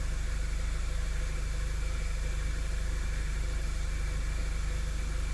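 A 2011 Audi A3 2.0T turbo engine, which has a cylinder 3 misfire, idles close by with a steady, even drone and a constant hiss, unbroken and without talk.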